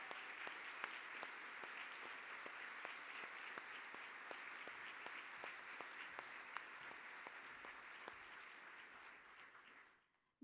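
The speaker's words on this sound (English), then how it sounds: "we can give them a warm round of applause" Steady, moderately dense audience applause at a business conference, recognising chamber of commerce colleagues, with a few sharper individual claps standing out before it fades out near the end.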